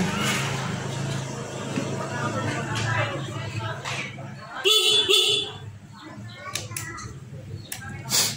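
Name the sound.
motorcycle horn honking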